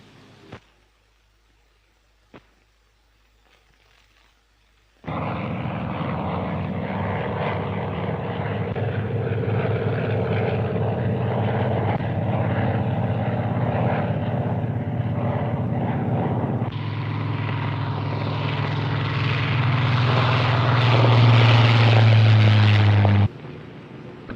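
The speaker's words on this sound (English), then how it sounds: "Flights of a squadron are led down into the landing circuit from the waiting or squadron break-up position without further orders" Propeller aircraft of a Royal Navy squadron fly the landing circuit in 1946: after near silence, a loud, sustained engine drone arrives and builds as planes pass close, then cuts off abruptly.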